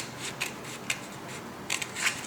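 Scissors snipping lines into paper for a lantern, a few sharp quiet cuts spaced apart with a quick double snip near the end, close and faint against a soft background hiss.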